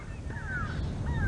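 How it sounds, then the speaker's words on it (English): Grey go-away birds caw in harsh, nasal calls on an African safari drive at sunrise, a few rising and falling cries over a constant low rumble of wind or vehicle noise. "And now all the go-away birds are going crazy in the distance."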